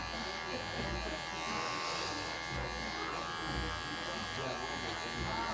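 Electric hair clippers buzz steadily and close up while trimming and shaping a big beard at a barbershop, a continuous hum under a man's instruction-giving talk.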